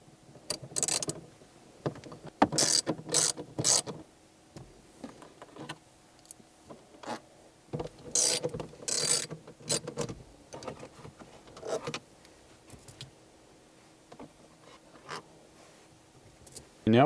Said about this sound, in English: put the Phillips through this slot right here, and you can get it right into that screw, and you can unscrew those out